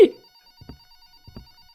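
A telephone rings inside a house in the cleaning game Just Cleaning, sounding as a faint, steady electronic trill under two short, muffled thuds.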